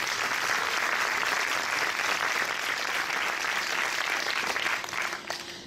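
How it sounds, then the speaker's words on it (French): An audience at the opening night of a historical fiction film festival applauds warmly, sustained loud clapping that holds steady for several seconds and then begins to thin out near the end. "vous pouvez encore applaudir, s'il vous plaît."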